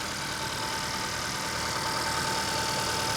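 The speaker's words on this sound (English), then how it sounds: "Listen to the engine." A car engine idles at an auction yard, a steady, even mid-pitched running drone with no revving, heard close and alone without talk.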